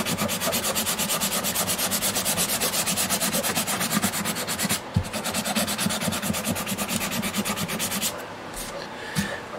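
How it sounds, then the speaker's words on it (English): Hand sanding of a varnished 12-string dreadnought guitar: steady, rapid back-and-forth rubbing strokes, close and continuous, with a brief break near the middle and a few knocks toward the end. "I will get this all sanded yet today and get another coat of varnish on it for sure."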